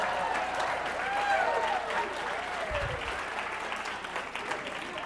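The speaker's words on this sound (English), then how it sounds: "You give Joe a nice round of applause" A steady round of crowd applause rolls on through the whole stretch for a magician's volunteer during a stage act at a 2017 WorkSource Summit, with voices faintly audible beneath it.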